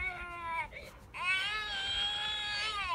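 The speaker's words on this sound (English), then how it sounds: "I feel like it's not as bad the second time having to listen to this cry" A RealCare infant simulator doll cries electronically, a wailing baby cry that breaks briefly and then resumes in a sustained, quavering scream, moderately loud and heard alone.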